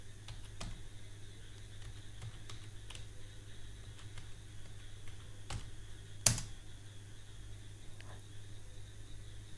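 Keystrokes on a computer keyboard as a password is typed, a few sparse quiet taps over a steady low hum, with one sharper click near the end like the Enter key.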